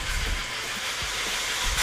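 American Flyer model steam locomotive running on a layout, a steady close hiss of simulated steam over a low rumbling roll with faint rhythmic clicking from the track, continuous and fairly loud.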